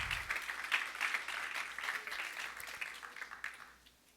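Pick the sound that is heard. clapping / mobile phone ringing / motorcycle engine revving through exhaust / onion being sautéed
clapping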